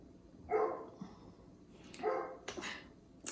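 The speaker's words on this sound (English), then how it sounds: "please pardon my neighbor's dog barking" A neighbouring dog barks in a few loud, separated bursts, with quieter yips and whimpers between them, heard on its own without talk.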